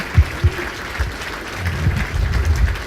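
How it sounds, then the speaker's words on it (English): A live audience claps at a community talk-show taping, starting with a couple of sharp claps and swelling into steady, moderately loud applause with no talk over it. "So I definitely want to have a huge round of applause"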